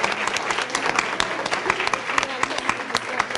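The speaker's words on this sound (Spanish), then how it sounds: "un aplauso a Adriana" Audience applause for Adriana at a pedagogy conference gathering: a steady burst of many hands clapping, dense and continuous at moderate level for the whole stretch.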